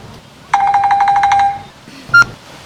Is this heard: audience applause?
no